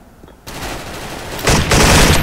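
An orange G3A3 2nd Gen rifle in the Special Force shooter fires loud rapid bursts, one steady stretch of fast shots followed by a heavier, louder burst near the end, close up with no talk.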